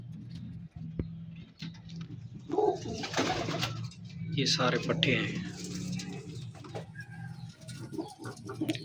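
Pigeons coo softly and steadily at a master breeder's loft, a low murmuring flock close by, while someone talks over them throughout.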